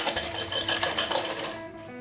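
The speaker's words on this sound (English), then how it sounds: "So just whisking that." Oil, water and sugar are whisked by hand in a bowl, a rapid, steady scraping rattle that stays close and continuous for about two seconds with no voices.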